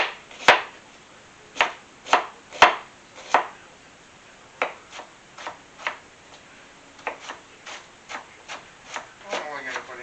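A knife dices a yellow onion on a cutting board, sharp irregular chops knocking close and clear, some in quick pairs, with quieter scraping and rustling between strikes.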